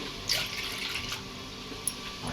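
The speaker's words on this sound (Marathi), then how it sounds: "इथे चार ग्लास पाणी घेते मी गार पाणी घ्यायचं आहे" A quiet, steady stream of cold water pours into a glass, with a couple of faint clinks.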